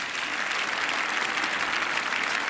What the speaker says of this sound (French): Les applaudissements là du public pour les deux joueuses.